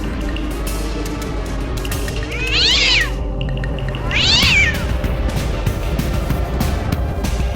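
A cat gives two loud, drawn-out meows close by, several seconds apart, over a steady background hum.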